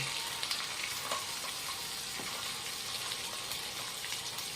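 Chicken sears in hot oil in a pan for binagoongan, a loud, continuous close-up sizzle with crackles and occasional scraping from stirring and no talking.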